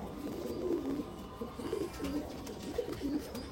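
Green Abluk pigeons coo softly and repeatedly in low, throaty rolling calls, close but quiet, with no talking over them.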